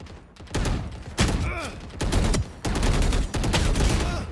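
Gunshots in the FragPunk video game, several loud bursts of rapid fire separated by brief gaps, close and punchy, with game effects sounding between the volleys.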